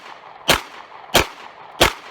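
Three sharp 9mm pistol shots fired at a bulletproof backpack outdoors, evenly spaced about two-thirds of a second apart, each a loud crisp crack with a short decay and no talking.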